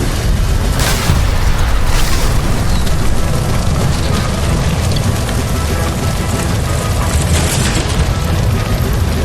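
A gas line explodes in the video game L.A. Noire, setting off a loud, sustained roaring blast with crackling bursts that fills the whole stretch without letup and carries no voices.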